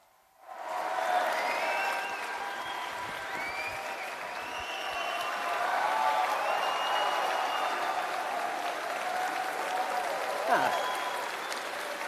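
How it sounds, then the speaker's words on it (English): A large audience at a political convention bursts into sustained applause and cheering for keynote speaker Ben Shapiro, rising after a brief quiet start and holding as a broad wash of clapping with crowd voices underneath. "A round of applause for Ben Shapiro."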